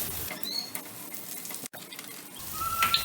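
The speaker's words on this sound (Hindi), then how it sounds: "जीरा क्रैकल होना शुरू हो गया है" Cumin seeds crackling in hot oil with chopped green chilli, a steady close sizzle dotted with small pops and crackles throughout.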